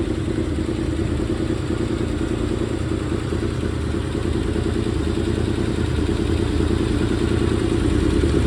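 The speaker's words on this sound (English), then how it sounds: "Hear a little exhaust leak, hear a little lifter tick." A Chevy 3100 truck engine idles cold with a steady, rough clattering rumble, a small exhaust leak and a light lifter tick running through the uneven idle, close and continuous.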